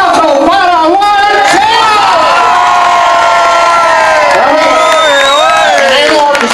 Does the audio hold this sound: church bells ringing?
no